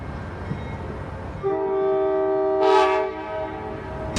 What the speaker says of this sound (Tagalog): Dunay train nagadagan.